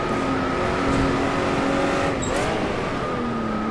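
Jaguar D-type race car at Goodwood, its engine droning steadily up close with a brief tire squeal as it corners midway, the engine note dipping then carrying on.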